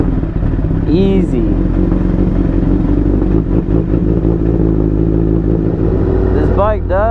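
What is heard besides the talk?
Honda Fireblade motorcycle engine starting up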